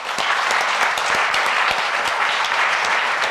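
A steady, dense burst of audience applause for the jury fills a cosmetics awards ceremony hall, with many hands clapping evenly and no break.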